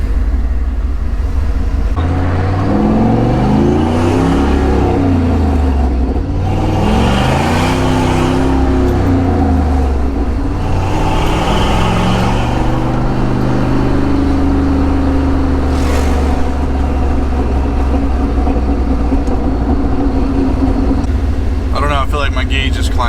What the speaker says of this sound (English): I'm gonna take it down the road and beat on it a little bit and see what it does